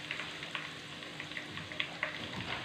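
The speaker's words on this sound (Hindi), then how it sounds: "अब इसको अच्छे तरीके से भूनेंगे ताकि इसका कच्चापन ख़त्म हो जाए" Lasagna filling being bhuna-fried in a pan to cook off its rawness: a steady close sizzle with scattered crackles and light pops, no talking.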